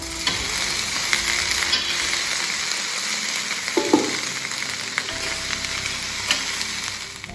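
Food frying without oil in a Saladmaster pan, a continuous dense sizzle with light crackles and a brief stirring scrape midway, close and loud with no talk.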